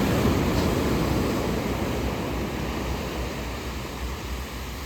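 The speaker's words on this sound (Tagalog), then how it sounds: "Maalon siya, medyo maalon, oh." Sea waves at low tide on a rough night, a continuous broadband roar of surf that stays steady and fairly loud throughout with no voices over it.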